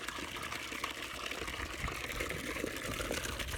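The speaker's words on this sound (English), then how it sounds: "so here's our new water feature" Water runs steadily from a homemade spigot made of pipe pieces into a swimming pool, a constant splashing trickle heard close up and alone for the whole stretch.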